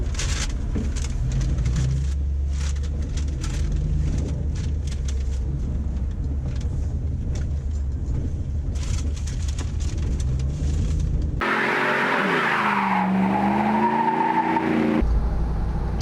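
A 1952 International H truck with a V8 rumbles at a steady idle with a low, rough exhaust note, then revs and pulls away in a rising, wavering engine sweep near the end.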